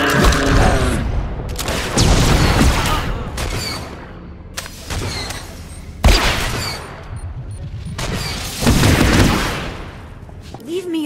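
Blaster gunfire rings out in a Star Wars: The Old Republic smuggler cutscene on Ord Mantell: repeated loud volleys and booming bursts in rapid succession, mixed with voices.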